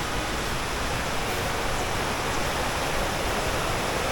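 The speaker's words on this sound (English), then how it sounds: "you can hear the water rushing down" Water rushes down at Cane River Falls in Jamaica, a loud, dense, unbroken roar of falling water close by, with no voices over it.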